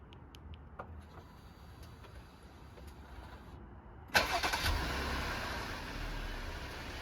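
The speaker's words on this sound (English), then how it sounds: "Now let's go test the new key with the car. We'll just check the remote start." A 2019 Jeep Grand Cherokee starts by remote start: a few faint clicks first, then the engine cranks and catches suddenly, settling into a steady, fairly loud idle nearby.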